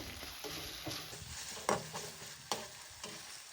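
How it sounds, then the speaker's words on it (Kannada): Ginger garlic paste frying in a pan for curry leaves rice, a close steady sizzle with a few sharp stirring scrapes and taps, no voices. "ಇದ್ರ ಹಸಿ ವಾಸನೆ ಹೋಗೋವರೆಗೂ ಫ್ರೈ ಮಾಡ್ಕೋಬೇಕು"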